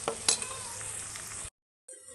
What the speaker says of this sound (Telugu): ఇలా వేసినప్పుడు గ్యాస్ని హైలో పెట్టండి ఫ్రెండ్స్, అప్పుడు ఎగ్ అనేది చక్కగా ఫ్రై అయిపోతుంది